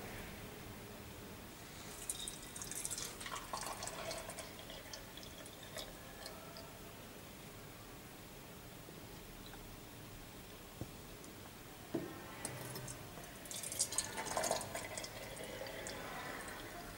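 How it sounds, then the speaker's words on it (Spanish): Boiling water poured carefully into metal cans, two short bursts of close pouring and trickling with faint drips and clinks, separated by a quiet pause, no talking. "Vamos a llenar las latas de agua hirviendo con bastante cuidado."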